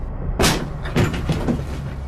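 A bedroom door sound effect: a sharp knock-like burst, then two or three more thudding, creaking impacts as the door swings open, loud and close over a low background rumble.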